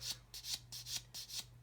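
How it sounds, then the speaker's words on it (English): A sanding stick rubbing along a seam on an Airfix 1/32 Humber plastic model: about six quick, rhythmic back-and-forth scratchy strokes, close and soft, over a faint steady hum. "I'm letting the sanding stick do the work."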